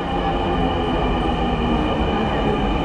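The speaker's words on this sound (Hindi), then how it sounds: "ये देखें मेट्रो आ रही" A Dhaka metro train arrives at a station with a loud, steady rumble and a droning mechanical hum that stays even from start to end.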